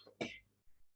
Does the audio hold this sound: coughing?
yes